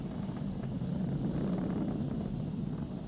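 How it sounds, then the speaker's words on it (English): Steady, distant low roar of a SpaceX Falcon 9 rocket climbing through supersonic flight, a continuous rumbling drone with no breaks across the whole stretch. "Vehicle is supersonic. We've exceeded Mach 1 on the Falcon 9."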